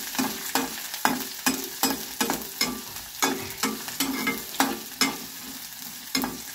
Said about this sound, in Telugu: ఉల్లిపాయ పచ్చిమిరపకాయ వేస్తున్నాను ముందు